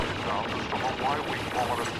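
Rapid-fire blaster shots from Star Wars Battlefront stream in a continuous dense burst, loud and close, with no pauses for the full two seconds.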